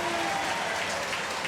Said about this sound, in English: As the fans get up and cheer